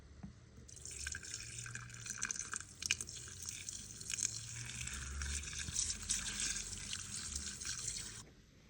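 Beer poured slowly into a container, heard up close as a steady foamy hiss and splash that lasts several seconds and then stops.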